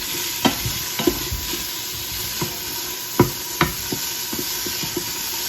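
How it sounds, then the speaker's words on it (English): Frozen vegetables sautéing in an Instant Pot, a steady close hiss and sizzle punctuated by irregular sharp scrapes and knocks of a utensil stirring the pot. "we just saute it till it gets, all the vegetables get soft"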